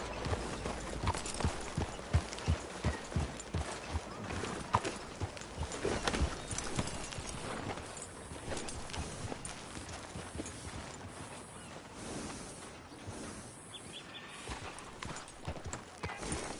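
A horse's hooves clip-clop at a steady riding pace through the whole stretch in the Red Dead Redemption 2 video game, with a continuous gallop rhythm under a busy background and no speech.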